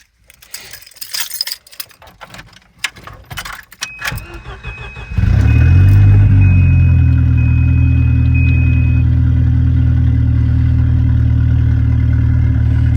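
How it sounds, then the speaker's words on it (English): Volvo 240 engine cold start: keys jangle and clicks, then the engine cranks and catches, settling into a loud, steady, slightly high idle close by. "A little cold start."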